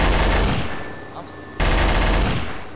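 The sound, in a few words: gunfire shooting a turret in Garry's Mod video game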